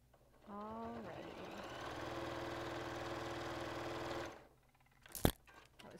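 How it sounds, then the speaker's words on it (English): A sewing machine stitches a forage bag with a top accent seam, running in one steady whirring burst for about four seconds before stopping, with a short clatter afterward. "That was a beautiful top accent stitching."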